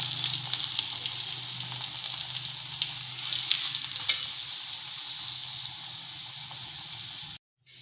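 Paratha frying in oil or ghee, a steady close sizzle and crackle running evenly throughout before cutting off abruptly at the very end.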